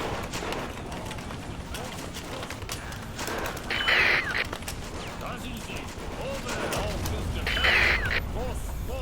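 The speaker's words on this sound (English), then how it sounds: "we've still got artillery firing" Artillery firing in the World War I strategy game Battle of Empires 1914-1918, trench defense against Russians, with scattered booms and crackling gunfire over a busy battlefield din, two louder blasts standing out midway and near the end.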